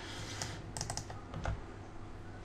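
Computer keyboard keys are pressed during CAM software work in Autodesk Inventor, with a handful of quick, close clicks in small bursts over a steady background hum.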